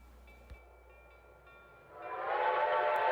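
Locomotive 2102 hauls a train, starting with quiet ambience and a faint whistle tone, then a rising rumble of the train's approach that swells loud and steady toward the end.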